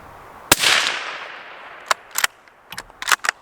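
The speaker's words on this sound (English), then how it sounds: "It's a sharp crack, but it's not loud." A Ruger American Scout rifle shot rings out as a single sharp crack with a lingering decay, then a scatter of lighter clicks and taps follows.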